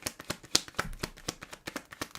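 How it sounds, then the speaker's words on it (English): Tarot cards being shuffled by hand, a quick run of crisp papery riffles and taps repeating in an uneven rhythm, close and fairly quiet. "let me shuffle up one more card just to see"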